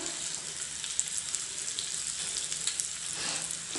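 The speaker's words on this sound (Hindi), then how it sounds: "इसे भी अच्छे से भून लेंगे।" Chillies with red chilli powder fry in a pan, a faint, steady sizzle and crackle with a few soft stirring clicks.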